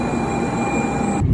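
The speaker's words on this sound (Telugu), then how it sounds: "సెవెన్ 13 ట్రైన్ వచ్చేసింది చూడండి." A Japanese Shinkansen bullet train bound for Tokyo pulls into the station with a loud, steady rumble and a high electric whine that holds evenly, then cuts off abruptly at the end.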